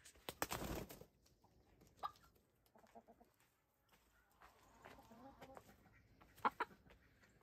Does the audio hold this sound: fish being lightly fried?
no